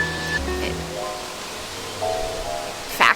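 Wind blows steadily outdoors with a constant broad rush and a few gusts, while faint tonal chimes ring through now and then.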